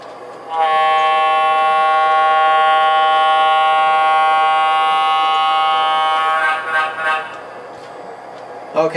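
A model NW2 diesel locomotive on a layout sounds a loud, steady multi-tone horn for about six seconds, followed by a few shorter blasts and running noise.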